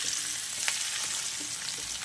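Chopped onion frying in hot oil in a pan, with a continuous close sizzle and occasional stirring scrapes, no voices.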